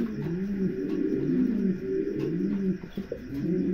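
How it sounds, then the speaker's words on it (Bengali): A pair of big, doll-sized fancy pigeons coos close by, repeating soft rolling calls in a steady rhythm with faint fluttering and shuffling behind them. "চমৎকার এক জোড়া কবুতর, পুতুলের মতন সাইজ"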